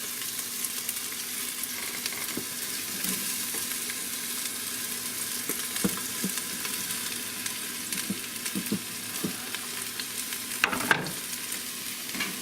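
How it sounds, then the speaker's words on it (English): Celery, matchstick carrots and other vegetables stir-frying in an Instant Pot for a beef ramen dish, a steady close sizzle with occasional scraping stirs and no talk. "And now we're just going to cook these until they're tender crisp."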